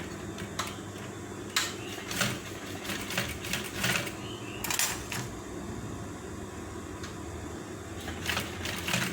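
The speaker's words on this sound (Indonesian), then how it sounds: "Ngejahit golpinya dari bawah ini, dari bawah jahitan yang tadi, di bawah sekitaran 1 cm." A sewing machine stitching a zipper into trousers, running in short bursts with rapid mechanical clatter and brief pauses, close and fairly loud with no talking.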